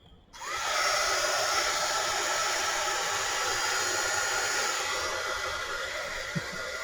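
A hair dryer blows steadily and loudly for several seconds after a brief quiet start, drying wet paint on a journal page, a broad even whoosh with no talking.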